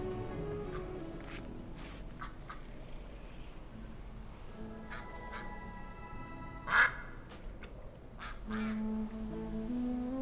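Ducks quack in World of Warcraft's Thaldraszus zone, several short calls scattered over steady game ambience, with one brief louder call near the middle.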